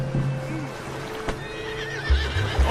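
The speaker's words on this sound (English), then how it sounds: "The horses are confused. We need to round them up." Horses in Red Dead Redemption 2 whinny in a drawn-out, wavering call, followed by a few heavier snorts and hoof sounds near the end, over a soft ambient backdrop.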